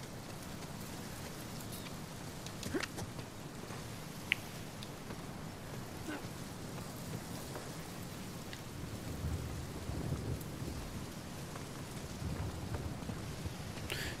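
Steady rain pours throughout a thunderstorm in the video game Uncharted 4, with a few low rumbles of thunder rolling in and out beneath the hiss.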